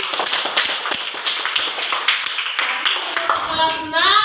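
Sixth-grade pupils clapping in an Indonesian classroom, quick uneven bursts of many small hands that thin out, with children's voices rising near the end, close and lively.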